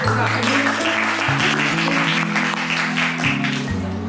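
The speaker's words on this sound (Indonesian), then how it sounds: "terima kasih tepuk tangan untuk tim" Classroom applause for a student team after a presentation: a steady wash of clapping runs throughout over a sustained low tonal drone that shifts pitch a few times.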